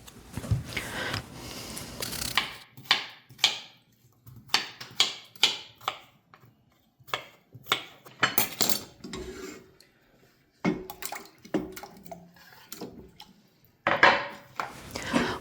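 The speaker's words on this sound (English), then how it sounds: "peel and chop some of these yellow potatoes" Yellow potatoes being peeled and chopped in a home kitchen, with irregular clusters of close knife strokes and clacks against a board, short bursts separated by pauses, no talking.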